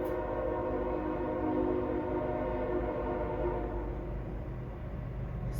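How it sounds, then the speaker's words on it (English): A train passes outside as a steady low rumble with tonal horn-like hums, continuous and moderately distant throughout. "Why is that train tripping?"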